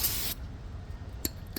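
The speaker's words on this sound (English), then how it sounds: "Spray it down." A short burst of aerosol brake cleaner hisses onto the front brake parts of a Chevrolet Malibu, followed by quiet and a couple of faint clicks of tools.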